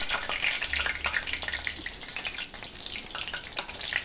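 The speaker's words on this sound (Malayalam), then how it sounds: "ഇനി വെളിച്ചെണ്ണ ചൂടുള്ളതിലേക്ക് മാവ് ഉരുളകളാക്കി അതിലേക്കിട്ട് നല്ലവണ്ണം ചൂടാക്കി മുരിഞ്ഞ് വരുമ്പോൾ കോരിയെടുക്കുക" Dough balls for bonda sputter and crackle as they deep-fry in hot coconut oil, a dense, continuous sizzle heard up close.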